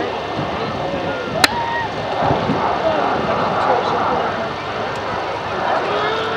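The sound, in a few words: Avro Vulcan XH558 jet bomber flying at airshow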